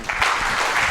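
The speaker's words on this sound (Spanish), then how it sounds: "brindémosles un fuerte aplauso" Applause from an audience welcoming a speaker, a dense, loud burst of clapping that fills the short moment.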